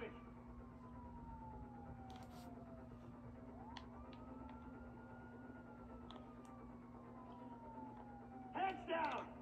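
A police siren in the video game GTA V wails, rising and falling slowly against a steady low hum, with a burst of louder sound near the end.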